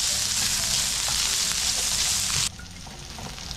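Diced calabresa sausage, skin removed, fries in a pan with a loud, dense, steady sizzle close up, dropping suddenly to a softer crackle near the end, with no voices over it.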